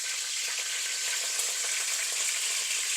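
Mustard seeds, curry leaves and green chillies sizzling in hot oil, a steady bright crackling hiss with tiny pops, close and continuous.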